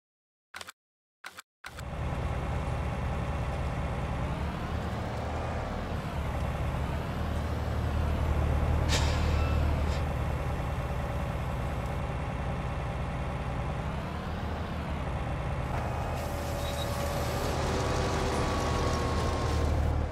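A tuned 800-horsepower K100-style truck on Michelin tires, driven in Farming Simulator 19, with a steady loud engine drone that rises and falls through gear changes for most of the stretch after a few short clicks at the start.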